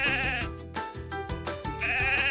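A sheep bleating close by, a couple of loud, wavering calls with short breaks between them, clear and alone.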